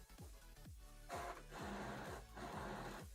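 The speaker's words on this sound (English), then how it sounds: "This printer." A home printer runs a double-sided print job, its mechanism whirring and clacking in repeated rhythmic cycles, faint and steady with no voices.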